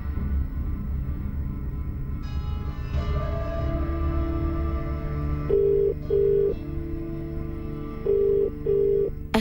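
Phone ringing during a call, with a low background hum under repeated short electronic ring tones that come in pairs, close and clear, with no talking.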